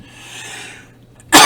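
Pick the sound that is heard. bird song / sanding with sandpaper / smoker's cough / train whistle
smoker's cough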